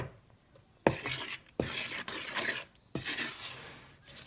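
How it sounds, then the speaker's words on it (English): Spoon stirring flour into challah dough in a bowl, scraping and rubbing strokes in uneven bursts with sharp knocks against the bowl, close and fairly quiet. "So I'm going to stir it in."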